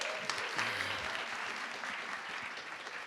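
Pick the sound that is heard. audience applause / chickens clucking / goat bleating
audience applause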